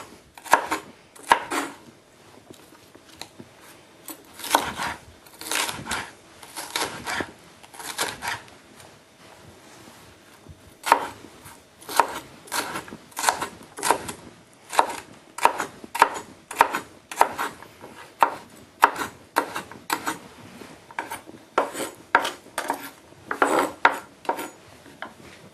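Steady, rapid knife chops on a cutting board as chicken is cut into thin strips and then small pieces for a coconut-milk chicken with black mushrooms, irregular bursts of close, crisp thuds with no talk.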